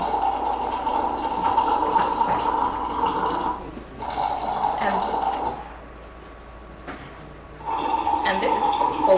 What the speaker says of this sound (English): Let's listen to the sound of hot and cold water.